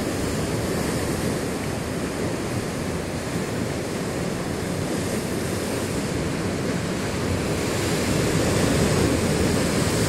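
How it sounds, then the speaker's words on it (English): Ocean surf rolls in at Bantry Bay, Cape Town, a loud, continuous roar of breaking waves with wind noise mixed in, steady throughout. "Love the ocean."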